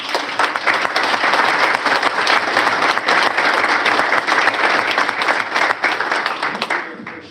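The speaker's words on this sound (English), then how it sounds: "How about let's give them a big round of applause." A large audience breaks into a big round of applause for a grieving widow and her son at a memorial-style gathering, dense sustained clapping filling the room for several seconds before easing slightly at the end.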